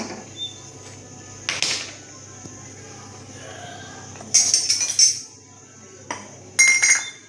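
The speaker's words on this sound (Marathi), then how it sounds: "आता आपण गॅस पेटवून गॅसवरती कढई ठेवूया" A gas stove is lit in a home kitchen and a metal wok is set on the burner, giving a few sharp metallic clinks and knocks between quiet stretches, close by and with no talking.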